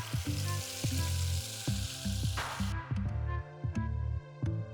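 A ground paste of coriander, mint, green chili and curry leaves sizzles as it goes into hot oil over fried onions at an outdoor cook, with steady frying noise under a strong, rhythmic musical backdrop.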